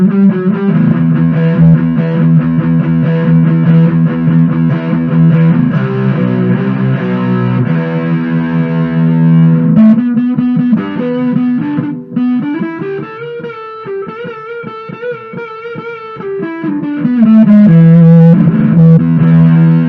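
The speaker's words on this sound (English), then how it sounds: "Let's try a little bit more distortion." Distorted electric guitar played in sustained notes and chords, with bends and a wavering passage, loud and continuous throughout, on an instrument fresh from capacitor testing work.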